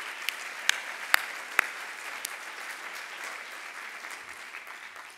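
Audience applause at a Capitol Hill science event, a steady wash of clapping from a crowd with a few sharp close claps standing out near the start, gradually thinning toward the end.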